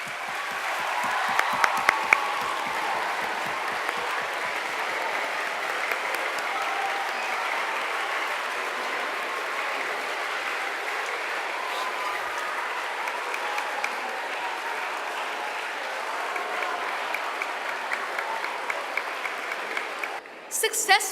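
A large audience breaks into sustained applause welcoming Dr. Manohar Joshi at a school event, steady dense clapping lasting about twenty seconds before fading out at the end.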